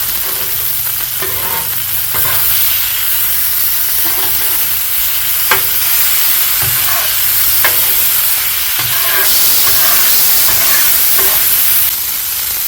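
Ground beef sizzles and fries on a Hasty Bake griddle while a spatula scrapes and pushes it around, giving a steady close hiss broken by irregular sharp scraping clicks, with no talking.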